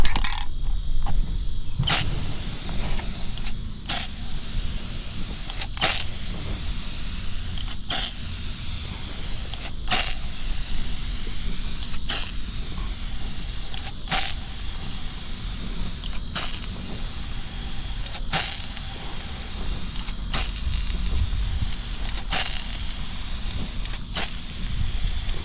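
A Spray Max 2K clear aerosol can sprays over a silver metallic Rustoleum fade, a steady close hiss interrupted by short regular breaks between passes.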